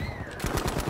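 Rapid bursts of suppressive machine gun fire in the video game Battlefield 5, sounding as a quick rhythmic series of close, loud shots over a continuous battle din.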